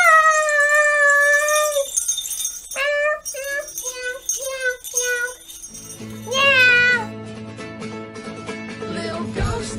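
A series of drawn-out, wavering meows and short mews follows in quick succession, loud and close, with some howl-like calls. Background noise rises in the second half.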